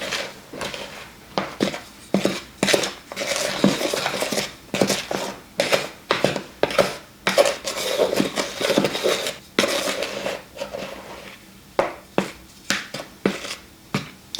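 A spoon scrapes and knocks around a bowl of blueberry muffin batter, giving a steady run of close, irregular clinks and soft wet strokes with no voices.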